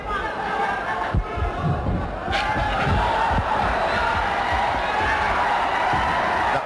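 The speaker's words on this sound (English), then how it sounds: "The crowd egging on Pacquiao." A boxing arena crowd roars in support of Pacquiao, a dense, steady wall of cheering and shouting that fills the whole stretch without a break.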